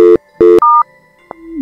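Telephone dialing in the video game S.I.M.: a few short electronic keypad tones in quick succession, then a higher beep and a lower tone that slides down near the end, with no talking.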